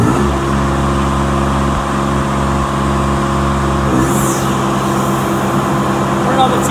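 The engine of an Air-O-Fan MTS sprayer machine runs as the RPMs are brought up, a steady mid-pitched drone that shifts tone partway through, heard up close with a person talking over it.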